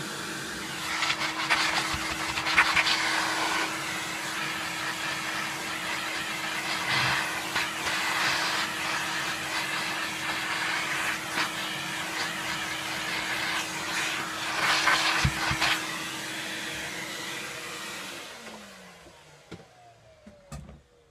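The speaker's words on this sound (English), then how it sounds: "Oh, I forgot to vacuum the switch." A Kirby Sentria 2 vacuum cleaner runs steadily and loudly while motor parts are being cleaned, holding a constant drone with brief surges of suction noise, then winding down near the end.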